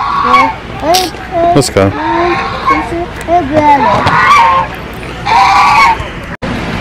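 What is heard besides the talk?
ducks honking at a park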